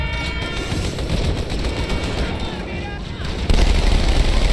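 Automatic weapon fire in Halo 2 Anniversary on PC, a dense continuous rattle of rapid shots with booming low-end impacts, loud and sustained throughout, growing heavier near the end.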